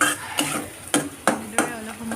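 A spoon scrapes and stirs dried fish chutney frying in a pan, four or five distinct sharp strokes spaced about a third of a second apart, close up over a low sizzle.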